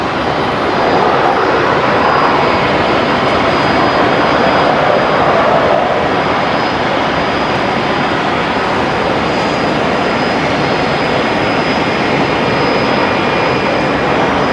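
An Air New Zealand Airbus A321neo airliner takes off on runway 19 left at Brisbane Airport, a loud, steady broadband engine roar that holds constant throughout with no talk over it.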